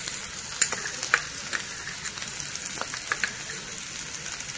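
Garlic frying in oil for egg fried rice, a constant close sizzle broken by small scraping clicks of stirring.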